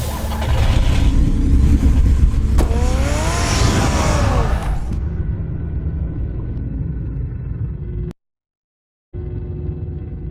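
A car engine roars and revs loudly in Batman Telltale Series, with a squealing rising whine midway, then drops to a low steady idle hum that briefly cuts out before resuming.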